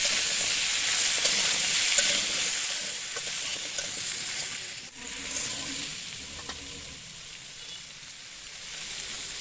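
Pumpkin and vegetables sizzle steadily in a hot pan, a bright crackling hiss with occasional stirring scrapes, no voices.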